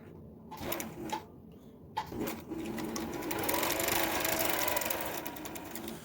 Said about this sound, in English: It is the motor. It drives the needle to give you different patterns